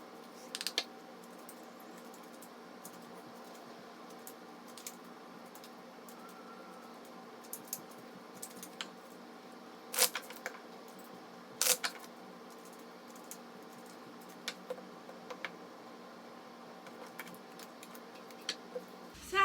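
Tarot cards are shuffled by hand, giving scattered soft clicks and occasional sharper snaps over a quiet, steady room hiss, with no one speaking.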